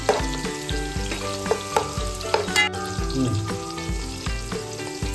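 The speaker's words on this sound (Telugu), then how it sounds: "కట్ చేసి పెట్టుకున్న ఆనియన్, మిర్చిని ఇప్పుడు వేయించుకుందాం." Chopped onion and green chillies fry in hot oil for a Karnataka-style mutton biryani, a steady close sizzle broken by repeated clanks and scrapes of a stirring spoon against the pan.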